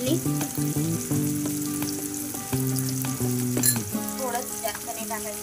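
Manchurian balls being sautéed in a pan with salt and red chili, a steady close sizzle with scraping stir strokes and a few clinks of the spatula against the pan.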